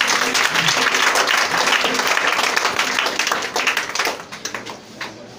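A church congregation claps together in a dense, loud round of applause that keeps going for several seconds, then thins out into scattered individual claps as it fades.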